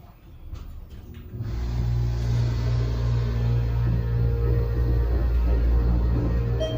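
The motor of a Thyssenkrupp hydraulic elevator at a Topgolf in Fishers, Indiana starts up after a few faint clicks and settles into a steady, loud, low hum that continues without a break.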